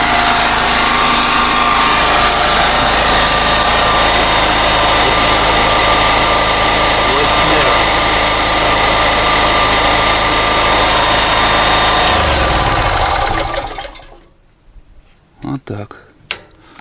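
A REDVERG RD-G3900N petrol generator runs loud and steady at close range, its even buzzing drone holding for about thirteen seconds before winding down and cutting off, followed by a few faint knocks.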